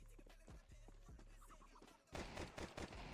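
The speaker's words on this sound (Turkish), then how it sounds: "Kral P90 bastım ben bu adamların üstüne ya" Bursts of P90 submachine gun fire in a video game, rapid rattling shots in short volleys, quieter at first and then a louder, denser spray toward the end.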